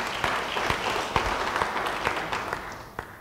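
A church congregation claps during a sermon, a short burst of fairly loud applause with distinct individual claps standing out, fading slightly at the close.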